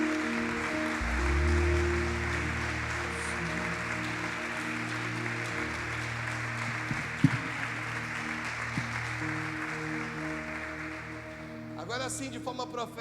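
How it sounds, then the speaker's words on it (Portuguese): Church congregation applauds during a sermon, a broad wash of clapping that holds for several seconds over a sustained organ or keyboard chord, then thins out near the end. "Você pode dar uma salva de palmas ao Senhor Jesus?"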